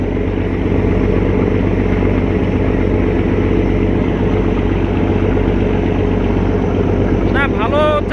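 Passenger launch boats racing on a river send up a loud, continuous low engine drone with steady deep throbbing close by. A short burst of voices comes near the end.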